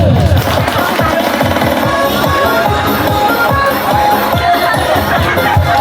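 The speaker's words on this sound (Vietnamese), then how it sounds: "Một tràng vỗ tay của tất cả quý vị để chúc mừng" Guests at a large family housewarming feast in Vietnam clap together in a loud, continuous round of applause, with crowd noise and some cheering mixed in.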